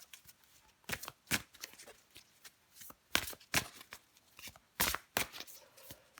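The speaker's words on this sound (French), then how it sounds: "je prends encore une carte pour vous" Tarot cards being shuffled and handled in quick irregular riffles and snaps, close and crisp, with no talking.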